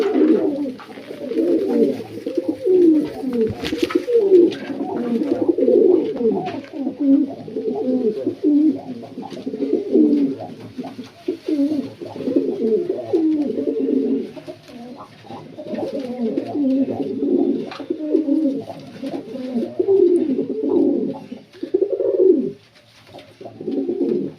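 Indian Lakka pigeons coo continuously at close range, a dense, overlapping chorus of soft, throaty, rolling calls from several birds that carries on for the full stretch with little pause.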